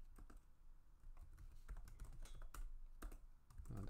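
Computer keyboard typing commands into a terminal for OpenFOAM meshing, brisk irregular clusters of close key clicks and thumps with short pauses between bursts.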